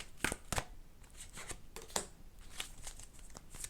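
Tarot cards being shuffled by hand, a series of crisp riffling bursts and soft slaps at an uneven rhythm, close and fairly quiet, with no talking.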